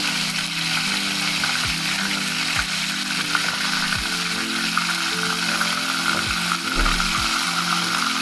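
Onion and ginger paste frying in hot oil for a chicken gizzard dish, giving a steady, close broadband sizzle with a few low thumps and no talk.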